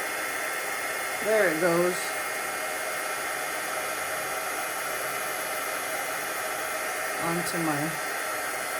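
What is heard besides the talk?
heat tool melting embossing powder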